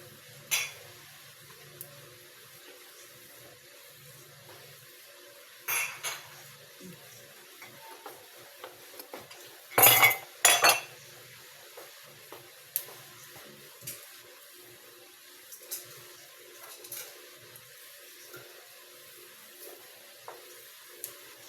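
Dishes, pots and cutlery being washed by hand at a sink: faint running water with occasional clinks, scrapes and one louder clatter of handled pots.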